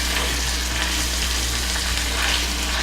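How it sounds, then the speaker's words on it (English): Garlic browning in a pan for a thick, chunky spaghetti sauce, giving a close, steady, even sizzle and crackle with a low constant hum beneath it. "You don't want to leave your garlic in your pan too long while you're browning it."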